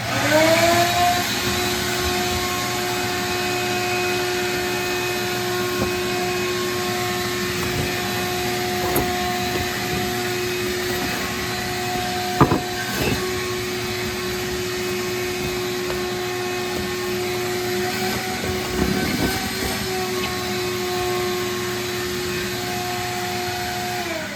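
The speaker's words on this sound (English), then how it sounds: "Let's plug in the vacuum." A vacuum cleaner runs steadily with a loud whining drone, punctuated by occasional clicks and bumps as it moves.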